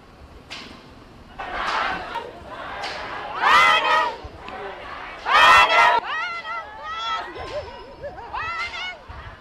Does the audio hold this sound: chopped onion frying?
no